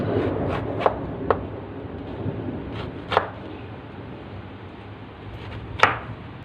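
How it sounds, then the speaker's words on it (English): A knife chops a turnip into cubes on a board: a handful of sparse, crisp cutting knocks spaced irregularly over a quiet kitchen background. "need to cut the turnip like this"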